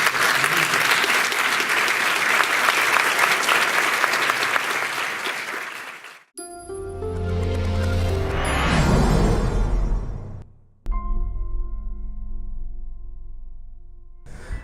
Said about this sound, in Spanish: Quiero por favor pedirles un fuerte aplauso a todos los miembros